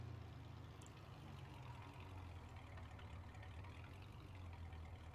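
A vehicle engine idles in the Roblox farm game Wicky Farms, a steady low rumble droning evenly and quietly throughout with no change in pitch or load.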